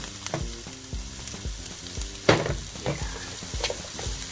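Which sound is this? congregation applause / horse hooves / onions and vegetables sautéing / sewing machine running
onions and vegetables sautéing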